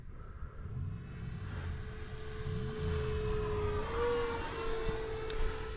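An electric RC model plane, a Viper or Turbo Timber Evo, makes a flyby with a steady whining motor tone. The pitch shifts slightly as it passes at moderate distance under outdoor wind.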